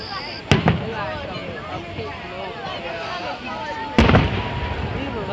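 Two sharp 4th of July firework blasts about three seconds apart, each a loud crack followed by a rumbling tail, over distant background crackle and murmuring voices.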